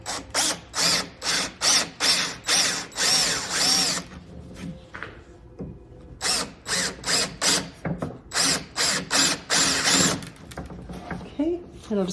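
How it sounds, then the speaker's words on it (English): Power drill boring out countersunk screws in a wooden swivel chair, repeated short whirring bursts in two runs separated by a quieter pause with faint handling noise, loud and close. "I'm probably just going to drill them out because they're countersunk"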